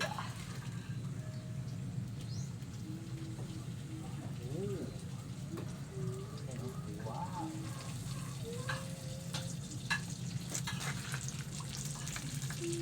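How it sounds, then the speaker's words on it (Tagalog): Cooking oil poured into a pan for frying pakulos and sizzling, a steady low hiss running throughout at moderate level with faint birdsong and small clinks in the background. "Tsaka natin siya bubuhusan ng mantika ngayon mga lodi. Lagyan natin ng mantika."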